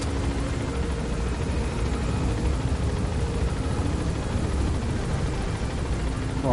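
In the video game Metal Gear Solid V, a helicopter gains altitude with a loud, continuous rotor thrum and deep engine drone that stays close and steady throughout, with no talking.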